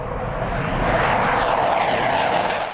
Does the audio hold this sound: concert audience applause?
no